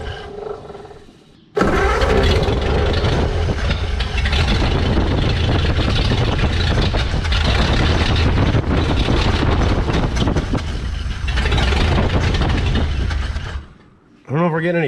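A barn-find 1936 Ford pickup with a flathead V8, not getting fuel to the carburetor, cranks loudly and steadily for about twelve seconds without catching, then cuts off abruptly.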